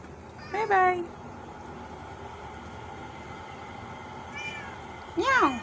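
A cat gives two clear meows indoors, a short one early on and another a few seconds later, both close and distinct over a quiet room murmur.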